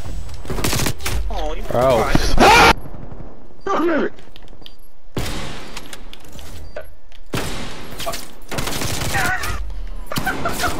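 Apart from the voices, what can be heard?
gunfire from a video game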